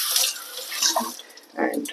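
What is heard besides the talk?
water running from tap during RO filter change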